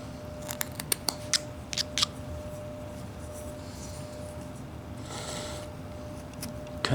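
A knife whittles a wooden figure, giving a few sharp, close scraping snicks in quick succession with pauses between them, then a softer rasping cut and one final click.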